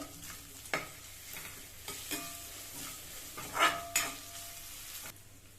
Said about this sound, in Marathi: पाच मिनटं मसाला तेलामध्ये मिक्स करायचा आहे